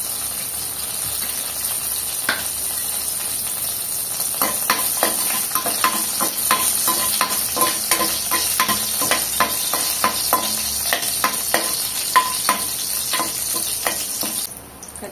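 Two dry red chillies fry in cooking oil in a pan, a steady sizzle with repeated sharp crackles and pops building after a few seconds, then fading at the end.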